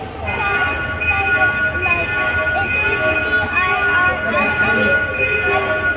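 A train ride rumbles along the rails around Ayala Cebu with a steady metallic drone and faint wheel squeals, voices talking over it.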